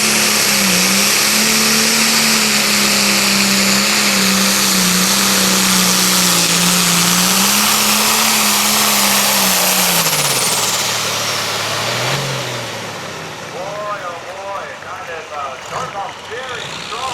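A John Deere 4430 tractor at a tractor pull roars loud and close, its revving engine holding a steady, wavering pitch before winding down after about ten seconds, with a busy outdoor background.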